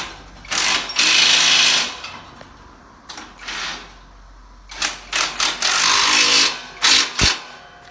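An egg laying diesel block making machine runs in short, loud mechanical bursts, rattling and clattering hard with brief pauses between the strokes.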